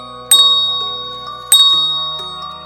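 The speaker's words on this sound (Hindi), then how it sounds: "ये रेलवे स्टेशन की घंटी का आवाज़ था जो 3 बार टंग टंग टंग कर रहा था।" A railway station bell near the docks rings at night, two sharp metallic strikes about a second apart, each leaving a long ringing tone that slowly fades, in otherwise quiet surroundings.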